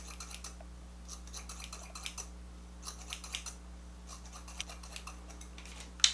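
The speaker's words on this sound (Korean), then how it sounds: "수치는 가위로 여기 옆머리랑 여기 이어지는 부분, 옆머리랑 뒷머리를 조금 정리를 한번 해볼게요" Thinning scissors trim the side and back hair during a self haircut at home, making a steady run of quick, crisp metallic snips close up, with a low hum underneath and no talking.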